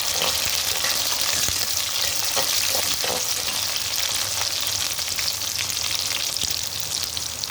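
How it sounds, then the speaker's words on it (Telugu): Dried red chillies with onions and green chillies fry in hot oil, a dense, loud, steady sizzle with occasional scraping stirs of a spoon in the pan, no talk. "నెక్స్ట్ ఎండుమిర్చి బాగా కొంచెం వేగిన తర్వాత ఇప్పుడు కలుపుకుంటాం."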